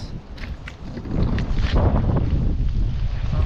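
Steady, heavy monsoon wind roars across the microphone in a continuous low rumble, gusting slightly louder after the first second, with faint splashing outdoors during fishing.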